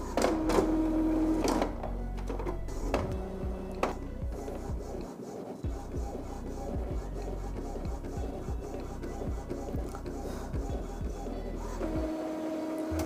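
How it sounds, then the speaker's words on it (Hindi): An Epson EcoTank L3250 printer pulls in a sheet of paper and prints a nozzle check, giving close mechanical whirs, clicks and the repeated shuttling of the print head, no voices. "छोड़ने के बाद अभी एक यह नोज़ल के लिए एक पेपर खींचेगा, उसके बाद नोज़ल प्रिंट करके हमें देगा"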